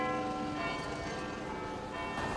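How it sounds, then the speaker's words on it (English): Big Ben's great bells in the Westminster clock tower in London chime with sustained, overlapping resonant tones that ring steadily through the whole stretch at moderate loudness. "The bells inside Big Ben are also iconic, and they make this very familiar sound."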